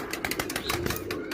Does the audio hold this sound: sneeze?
no